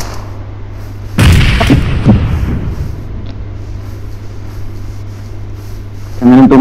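A grenade blows up in a mobile shooter game, a single loud burst that crackles and rings for a couple of seconds before fading, over a steady low hum, with another sharp blast right at the end.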